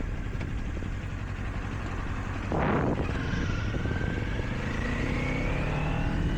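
A Kawasaki Ninja 500 motorcycle accelerates on the road, carrying a passenger. Its engine note climbs steadily in pitch over constant wind rush, with one brief louder whoosh partway through.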